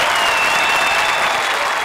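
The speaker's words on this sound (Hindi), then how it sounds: "भाई तालियां उनके लिए भी." A studio audience at a TV comedy show applauds loudly for the performers Krushna and Sudesh, a dense, sustained roar of clapping with a faint tone running through it.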